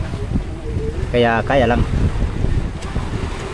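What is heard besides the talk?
Amihan monsoon wind blowing at sea on a boat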